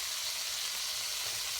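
Steak frying in a pan for a demi-glace dish, a steady, quiet broadband sizzle holding evenly throughout with no talking.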